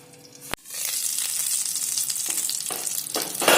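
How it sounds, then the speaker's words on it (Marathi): Stuffed capsicums fry in hot oil in a covered pan, a loud steady sizzle that swells after a sharp clack near the start and holds without talk. "थोडं तेल आजूबाजूला कोट होईल असं परतून घेते"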